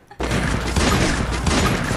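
Rapid gunfire in the video game Garena Free Fire starts abruptly and continues as a dense, loud, continuous burst of shots over about two seconds.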